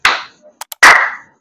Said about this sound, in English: just follow 5 minutes continuous clapping exercise every day in the morning